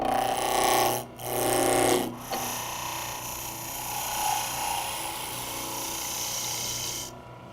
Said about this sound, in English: I can finish turning the blank into a cylinder using my spindle roughing gouge.